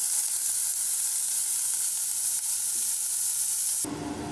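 Onion and green chillies frying in about half a spoon of oil for an omelette, a steady bright sizzle that cuts off abruptly near the end.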